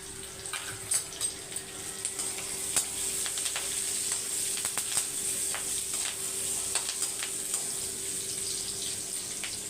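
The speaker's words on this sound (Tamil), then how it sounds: "இப்போ வந்து எண்ணெய் காயிட்டோம் சோம்பு போட்டுக்கலாம் கருவேப்பிலையும் ஒரு அஞ்சு பல் பூண்டு" Fennel seeds, curry leaves and garlic cloves hit hot oil and sizzle steadily, with frequent crackling pops and spits close by over a constant hiss, lasting throughout without talk.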